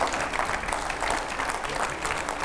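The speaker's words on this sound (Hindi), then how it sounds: "जोरदार तालियों से स्वागत कीजिए" Studio audience applause greeting a guest on a Hindi TV talk show, steady dense clapping from a crowd that fills the whole stretch without a break.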